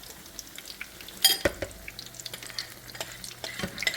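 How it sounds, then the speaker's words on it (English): Faint scraping and clinking of a utensil against a mixing bowl while making apple fritter batter, a few sharp taps among soft rubbing strokes, close by and otherwise quiet. "And Mariah scraping that bowl. That's what y'all hear"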